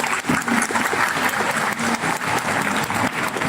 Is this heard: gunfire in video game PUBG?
no